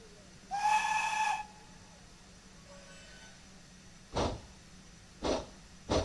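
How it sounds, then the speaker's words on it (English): A locomotive whistle in Train Simulator 2018 on the Isle of Wight line gives one clear, sustained toot of almost a second, followed by three short low thumps and a steady background hum. "Get ready for the toot of the whistle as well."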